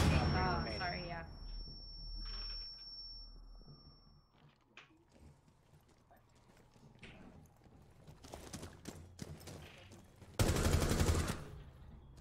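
Gunfire in a Rainbow Six Siege match, scattered sharp shots and clattering action building to a loud burst near the end, with players talking over the opening.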